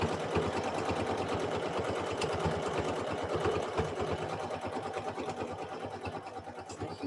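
Janome sewing machine running a tack down stitch, producing a close, continuous rapid chatter with a steady pulsing rhythm that holds for several seconds, with no talk over it.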